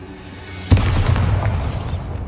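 A Bombarda blasting spell bursts in Hogwarts Legacy, a single loud sudden boom followed by a rumbling, crackling tail that slowly fades.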